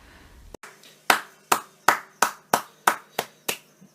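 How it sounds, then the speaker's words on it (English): About eight slow, evenly spaced claps ring out close and clear after a brief noise, like a small audience clapping sparsely to honor a mock acceptance speech. "Give him a round of applause, guys."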